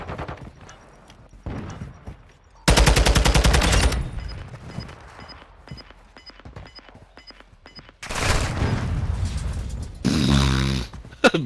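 Video game gunfire rings out in loud automatic bursts, several dense volleys separated by quieter stretches, with a final sharp burst near the end.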